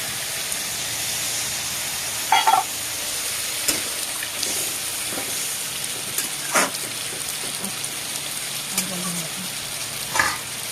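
Drumstick and potato pieces sizzle and fry steadily in a pan, with occasional louder clatters and stirring knocks over the continuous hiss.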